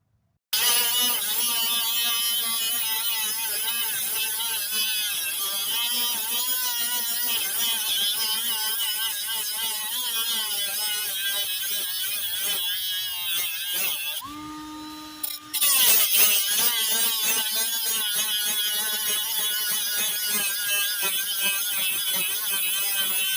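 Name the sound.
power tool cutting off bolts on a plow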